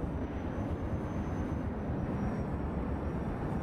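Valkyrie helicopter flying in Planetside 2, a dense, steady engine roar with a rumbling low-end drone that holds constant and close throughout, with no breaks or voices.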